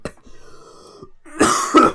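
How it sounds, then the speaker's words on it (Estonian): Two loud, harsh coughs burst out close by near the end, after a quieter stretch of low murmuring. "Jah, köha."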